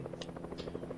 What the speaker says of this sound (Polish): Też helikopterem leci.